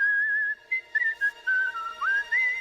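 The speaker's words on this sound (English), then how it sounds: "You guys know I love a little whistling tune." A person whistles a short, wavering tune, clear and close, with several brief pauses between phrases.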